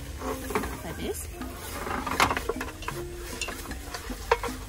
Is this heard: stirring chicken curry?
yes